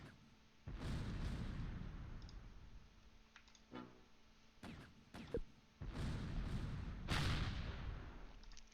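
Mortar fire in the video game Close Combat Last Stand Arnhem, set in 1944, comes as several heavy booming blasts with broad rumbling tails and sharp cracks between them, rising and falling over a quiet background.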